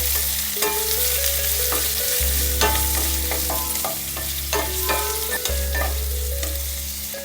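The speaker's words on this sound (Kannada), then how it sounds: "ಮೀಡಿಯಂ ಫ್ಲೇಮಲ್ಲಿ ಇಟ್ಕೊಂಡು ಎಲ್ಲನೂ ಫ್ರೈ ಮಾಡ್ಕೊಳ್ಳೋಣ." Chopped onions fry on medium flame in a pan for a paneer matar masala, a steady close sizzle broken by repeated scrapes and clinks of a spoon stirring against the metal.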